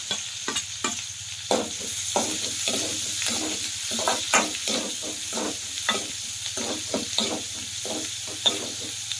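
Garlic and chopped onion frying in a pan, a continuous sizzle under a quick, regular run of spatula scrapes and taps, close and fairly loud, with a low steady hum beneath and no talking.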